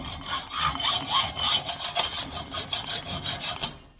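A hand saw cuts a part to length with steady, close back-and-forth strokes, loud and rhythmic, each stroke a rasping pass, about eight strokes running without pause over four seconds.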